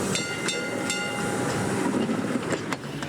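A tram runs on rails in New Zealand with a steady loud rumble and rhythmic wheel clicks over track joints, heard up close with no talking.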